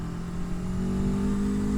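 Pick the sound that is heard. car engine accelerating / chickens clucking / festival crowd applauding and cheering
car engine accelerating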